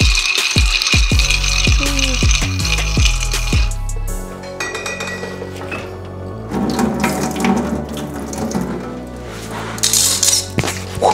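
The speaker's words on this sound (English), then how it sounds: "now gonna stir it 10 times." Ice rattles and clinks against glass as a Jägermeister cold brew cocktail is stirred, loud and close with rapid knocks at first, then softer swirling, sloshing and scattered clinks without any talk.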